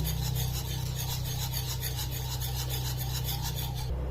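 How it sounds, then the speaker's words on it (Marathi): Mawa being mixed into a thick, traditional mango kheer, heard as a steady rasping scrape of a spoon against the pot over a constant low hum, continuous for a few seconds with no talk. "मावा आता छान मिक्स करून घ्यायचा। विस्करने मिक्स करायचा म्हणजे छान मिक्स होईल।"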